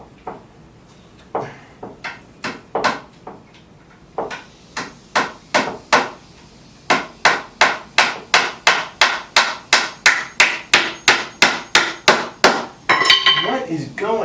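Roughly thirty sharp hammer strikes on a canvas frame being prepared for oil painting, loud and close, coming in a steady, fast rhythm with a short pause early on and a clattering rustle at the end.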